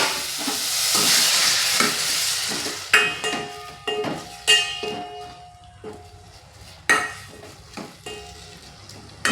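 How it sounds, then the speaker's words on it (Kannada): Water poured into a pan of sizzling tomatoes for garlic rasam sends up a loud hissing burst, then the sizzle eases under repeated sharp scrapes and taps of a spoon stirring against the pan. "ಸ್ವಲ್ಪ ನೀರು ಹಾಕ್ತಾ ಇದ್ದೀನಿ ಇದರಲ್ಲಿ"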